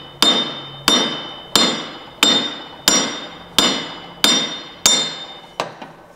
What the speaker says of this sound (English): This is a brass headed hammer. And we're gonna just move it around and hit it on this screws